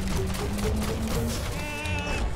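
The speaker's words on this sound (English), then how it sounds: "No, don't hurt my goat." A goat bleats in the video game Biomutant, with short wavering calls over a dense, continuous game soundtrack and effects bed.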